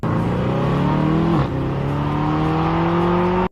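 A Mercedes-AMG 6.2-liter V8, as fitted to the SLS Black Series and C63 AMG, revs hard with a loud, deep rising engine note, a brief dip during a gear change, then climbs again before cutting off abruptly.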